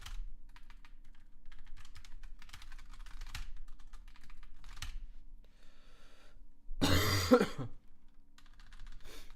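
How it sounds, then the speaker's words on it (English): Quiet keyboard typing clicks away, then a single loud cough bursts out close by before the soft tapping resumes. "Sorry for coughing."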